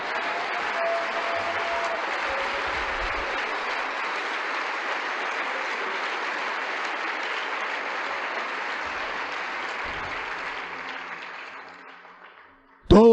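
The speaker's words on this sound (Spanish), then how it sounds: "le damos un aplauso al Señor" A church congregation applauds the Lord with sustained, even clapping that continues at a steady level for a long stretch, then tapers off before a voice briefly breaks in at the end.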